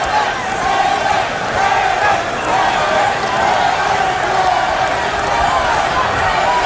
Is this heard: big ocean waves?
no